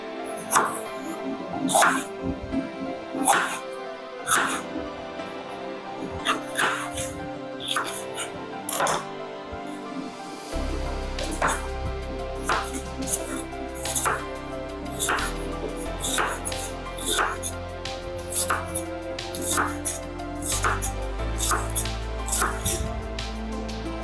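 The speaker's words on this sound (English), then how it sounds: "Chop my sweet peppers." A knife chops sweet peppers on a board in quick, regular strokes, with music playing in the background.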